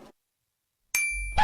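A mobile phone notification ding rings out once, bright and close, with a sustained ringing tone and a low hum beneath it after a moment of silence.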